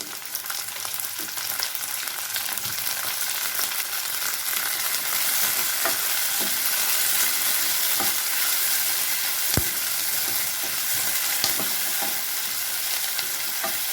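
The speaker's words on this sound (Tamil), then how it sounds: "எல்லாத்தையும் நல்லா வணக்கிக்கலாம்" Garlic, onion, tomato and green chilies sautéing in a pan give a steady, loud sizzle that runs unbroken for the whole stretch, with a few faint stirring clicks and no voices.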